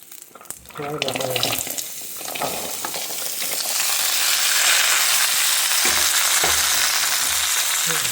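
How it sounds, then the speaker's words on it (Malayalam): Water pours into a cooking pot of vegetable thoran on the stove, a loud, steady rushing splash that builds after a few seconds of sizzling and clatter and then holds. "ഒരു അര ഗ്ലാസ്സിൽ കൂടുതൽ വെള്ളം കൂടെ ആഡ് ചെയ്യുക"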